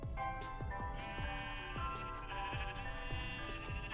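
Minecraft sheep bleat repeatedly in short wavering calls over an ongoing rhythmic background game sound, close and fairly clear.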